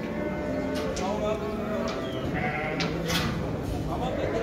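Female lambs bleat at a small-livestock market in Şarkışla, several calls rising over a steady, busy crowd murmur, with people talking nearby throughout.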